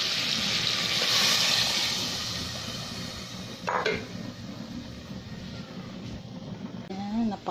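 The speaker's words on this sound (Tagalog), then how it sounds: "Saka na natin lagyan ng tubig." Water pours and splashes into a pot for boiled pork bone soup (nilagang buto ng baboy) with a rushing hiss, then a clank of cookware and a short voice near the end.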